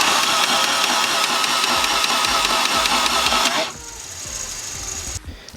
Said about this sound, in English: And I am gonna crank the motor over just in case any metal's in there to get that to blow out.